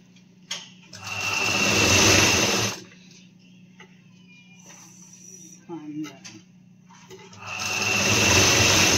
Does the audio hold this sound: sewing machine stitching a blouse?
yes